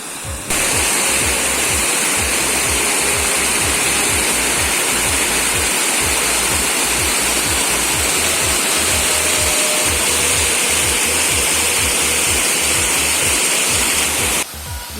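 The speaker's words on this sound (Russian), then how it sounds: "Еще один водопад." The upper Sukil waterfall in the Skole Beskids roars as a loud, steady broadband rush of falling water, unbroken and close, with no voices.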